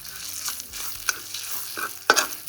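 Stir-frying in a pan, with repeated scraping strokes of a spatula against the metal over a soft sizzle, the stirring coming in uneven bursts and ending in a sharper clatter.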